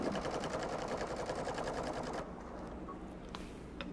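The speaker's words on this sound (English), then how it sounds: "Put my foot down. And start sewing." A sewing machine stitches a quilt made with pre-printed batting, giving a fast even run of needle clatter for about two seconds, then stopping, followed by faint quiet handling sounds.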